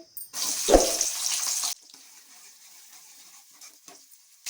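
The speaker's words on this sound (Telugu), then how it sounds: "ఆయిల్ బాగా వేడైన తర్వాత ముందుగా మనం కట్ చేసి పెట్టుకున్న ఉల్లిపాయలు వేసుకోవాలి" Sliced onions dropped into hot oil for a mushroom curry: a loud hissing sizzle bursts out for about a second and a half, then settles into a faint, steady crackle, with no talk.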